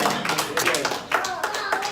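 Church congregation claps in praise during a service, irregular hand claps mixed with voices and calls, fairly loud and reverberant.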